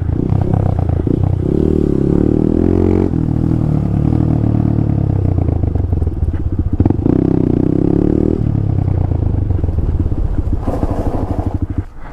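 A Honda Grom MSX125 motorcycle ridden and pulling in, its loud nearby engine droning steadily with shifts in pitch and rumbling clatter, easing off near the end.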